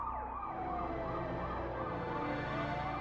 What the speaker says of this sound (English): His wailing drowns out the ambulance sirens.